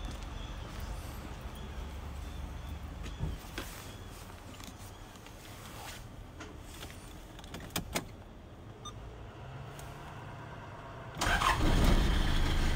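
A 1991 Toyota Hilux pickup with a 2.8 diesel engine cranks and fires up near the end after a stretch of quiet ambient noise, ending in a loud, rough start.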